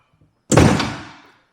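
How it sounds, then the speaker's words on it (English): A door in a classic Eichler home in Mountain View is pushed shut with one sharp, loud slam, followed by a short decaying ring in the room. "closing the door"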